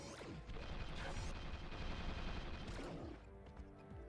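Rapid mechanical gunfire rattles from a placed turret gun in a PS2 action game, dense clattering bursts running steadily for several seconds before tapering into quieter clanks.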